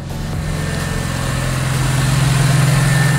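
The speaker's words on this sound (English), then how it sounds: "Engine's running pretty healthy." A BMW E46 M3 engine runs steadily at idle, prepared for a drift event, a loud close droning hum with a faint pulsing beat that builds slightly over a few seconds.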